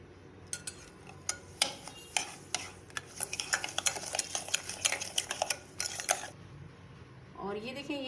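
A spoon stirs sugar into fruit chaat topped with ice cream, giving quick, irregular clinks and scrapes against the bowl for several seconds, fairly close, before a brief pause and a softer sound at the end.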